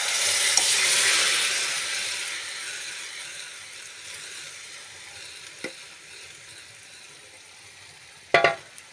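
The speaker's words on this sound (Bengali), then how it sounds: "এবার যে আমার 1 ঘন্টা ম্যারিনেট করা চিকেনটা রয়েছে সেটাও আমি ঢেলে দিচ্ছি" Chicken marinated for an hour hits a hot pan and sizzles loudly, the crackling frying fading gradually over several seconds, with a couple of sharp stirring clinks later on.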